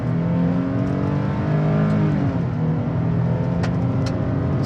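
A 2023 Nissan Frontier Pro-4X pickup accelerating hard from a standstill toward 60 mph gives a loud, continuous engine drone heard from inside the cab, with pitch climbing through gear changes.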